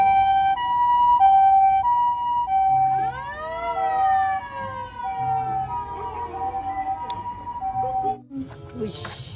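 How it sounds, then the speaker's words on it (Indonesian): A toy ambulance siren wails loud and close in a repeating two-tone pattern, then rises into a sweeping electronic whoop before cutting off. "Muncul mobil ambulan."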